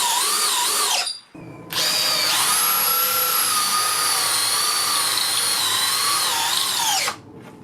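A DeWalt Powerstack cordless hammer drill whines loudly and steadily, stopping briefly after a second, then drilling a 68mm hole at a high, sustained pitch before winding down.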